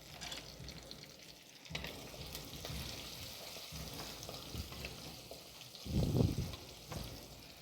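Small shallots and garlic sautéing in a pan for a village-style black-eyed pea curry, giving a steady soft sizzle with occasional stirring scrapes and a louder burst of frying near the end.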